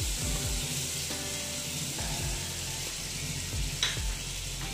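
Potatoes frying in a pan for a soya chunk and potato curry, a steady close sizzle with occasional scraping clatter, no talk.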